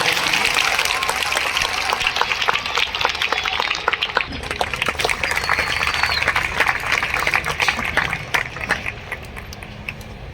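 A church audience at Calvary Temple applauds for Dr. P. Satish Kumar's birthday, a dense, steady wash of many hands clapping that holds for several seconds before thinning out slightly at the end.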